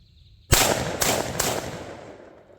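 An inexpensive semi-automatic shotgun bought at Walmart fires three rapid, loud shots in quick succession, each a sharp blast, followed by a long fading echo outdoors.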